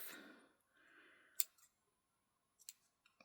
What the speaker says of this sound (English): In fact, I think I'll snip these off